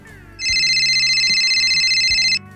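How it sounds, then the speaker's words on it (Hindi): An electronic phone ringtone sounds, a bright trilling tone that starts abruptly and rings steadily for about two seconds before cutting off, with low background noise. "अब किसका फोन आ रहा है?"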